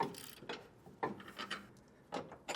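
A wrench ratchets a nut off a bolt while TorkLift front camper tie-downs are fitted to a 2025 Toyota Tundra. Quick bursts of mechanical clicking repeat in a steady rhythm, close and fairly faint.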